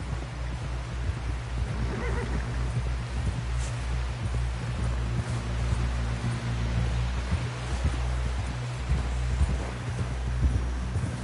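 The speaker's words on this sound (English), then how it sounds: "Someone help John down off this horse." Horse hooves clip-clop steadily in Red Dead Redemption 2 as a rider approaches camp. The rhythmic hoofbeats sit over a low ambient rumble and soft rustling, moderately near and without speech.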